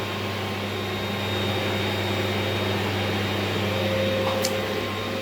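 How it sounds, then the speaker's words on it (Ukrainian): A large vacuum cleaner runs nonstop in a home, its loud, even motor drone and hum filling the whole stretch without a break. "я буду сам тут пилососити. Тут яка велика махіна, дивіться."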